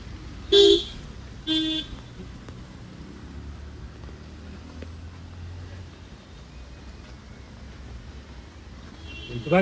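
Two short car horn toots sound close together near the start over a steady rumble of street traffic at a busy Santacruz market, followed by continuous engine and road noise.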